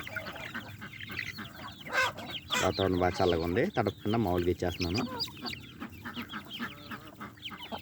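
Breeding hens cluck and squawk excitedly as grain feed is handed out on a cold day, loud close calls mixed with someone talking.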